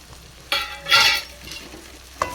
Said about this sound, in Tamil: அதையும் போட்டு ஒரு கிண்டு